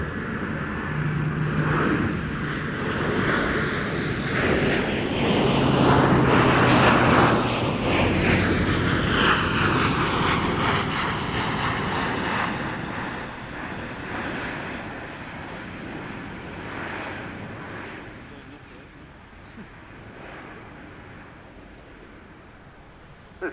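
Airbus military transport aircraft flying past, engine roar building to a loud peak then fading into the distance with a sweeping, whooshing tone, no talk.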